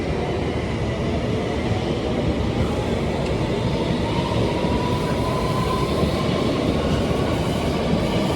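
Metropolitan line London Underground train running between stations, a steady loud rumble of wheels and motor with faint rhythmic clatter and a thin high squeal late on, filling the interior continuously.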